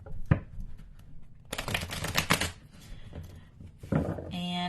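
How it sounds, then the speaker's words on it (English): Tarot cards are shuffled in the hands, giving soft riffling bursts and papery slaps in quick clusters, close and fairly quiet, with a faint voice in the background. "So I'm going to get a good shuffle."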